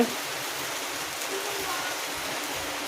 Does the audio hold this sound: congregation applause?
no